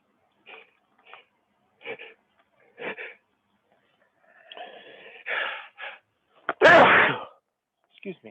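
Someone sneezes during a software tutorial, a loud burst preceded by short sniffs and breaths, heard close to the microphone.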